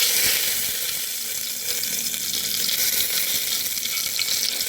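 Bay leaf frying in hot oil while being stirred lightly, for a vegetarian basanti pulao cooked in a pressure cooker; a steady, close, bright sizzle runs throughout without talk.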